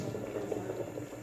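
Mangoes simmer in a pot of water for murabba, a steady low bubbling boil with soft popping, close and moderately quiet, no voices.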